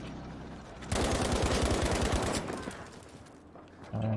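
Machine gun suppressing fire in the video game Battlefield V: a loud, rapid automatic burst that rattles for about a second and a half, then trails into echoing distant gunfire.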